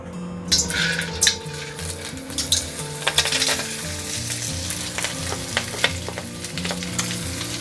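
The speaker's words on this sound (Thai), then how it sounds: "เราจะทอดเต้าหู้กันก่อนค่ะ ใส่น้ำมันพืชลงไปนะคะ แล้วก็ทอดค่ะ" Tofu fries in vegetable oil with a constant close sizzle and crackle, punctuated by several sharp clinks and scrapes of a utensil against the pan, with no talking.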